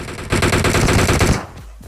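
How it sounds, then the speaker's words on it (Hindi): Burst of rapid automatic gunfire in a shooting video game, a dense rattling volley of about a second that cuts off into fading echoes and a couple of softer trailing shots. "बट भाई पीछे तो कुछ फायरिंग शॉट्स हो रहे होते हैं"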